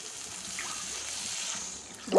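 Water is poured into a pan of sizzling egg curry, making a soft, steady trickle and hiss that surges louder and splashier right at the end.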